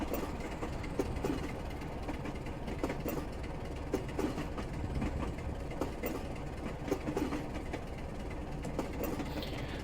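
A Class 27 diesel locomotive under throttle on the Ardlui to Fort William line in Train Simulator Classic: a continuous low engine rumble with rolling wheel noise and regular clicking rail joints, steady and unbroken, with no talking.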